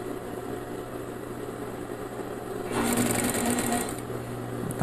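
Sewing machine stitching bias binding onto a fabric Christmas trivet, a steady close-up motor whir with rapid needle clatter that grows louder and faster partway through.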